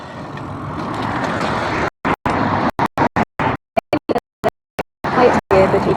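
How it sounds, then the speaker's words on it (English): Steady road rumble from passing traffic, repeatedly cut by brief gaps of silence. "There we go, cars."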